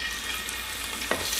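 Cubed chicken sizzles steadily in a hot pan, a continuous close frying hiss with a brief stir or clatter near the end.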